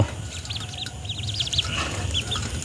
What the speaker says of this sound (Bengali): এই যে হাঁসের বাচ্চা